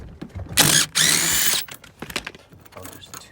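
A power tool whirs loud and close as it zaps out 14 mm seat bolts in a Lexus SC300, two sharp bursts, then clinks and rattles of handling.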